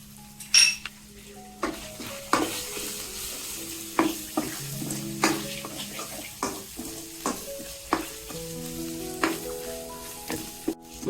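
Spiced masala with turmeric being stir-fried in a pan for a chickpea curry: steady sizzle under repeated scraping and clinking of a spoon against the pan, close and fairly loud, with no talk.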